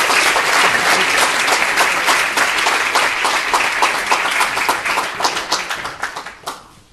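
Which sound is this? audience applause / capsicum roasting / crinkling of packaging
audience applause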